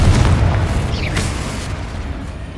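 The Confringo spell in Hogwarts Legacy bursts with a loud, deep explosion and a boom that rolls off into a fading rumble.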